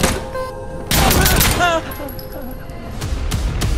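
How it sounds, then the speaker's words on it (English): Gunfire from the video game Insurgency Sandstorm: a sharp, loud burst of rapid shots near the start, then scattered echoing reports and ringing debris as the battle continues over a mixed, noisy backdrop. "Shots fired in a cement room, a metal warehouse, or city street will sound different"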